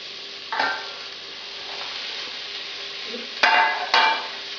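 Onions and leeks fry in a pan over medium heat, giving a soft continuous sizzle with a few brief scraping stirs, close up and without any voices.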